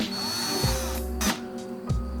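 A handheld power drill bores a hole into a homemade shad jerkbait lure without a drill press, its motor whirring steadily and close with a few short pulses and pitch shifts as the bit bites in.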